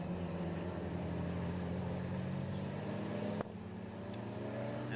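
A Mitsubishi Evo 9 race car at Oulton Park time attack circuit, a distant engine drone holding steady under track ambience, then cutting abruptly lower as it moves away.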